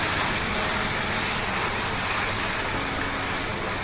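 Milk pours into a pan of bottle gourd curry with a steady, close, rushing, hissing wash of liquid that stays even and fairly loud throughout.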